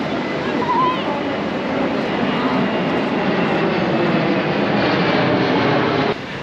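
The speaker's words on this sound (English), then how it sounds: "We just had a flyover by an aircraft plane." An aircraft flyover on Remembrance Day at a beach in Newcastle, Australia, gives a loud, broad engine roar that holds steady and then drops off near the end, with surf-like background noise.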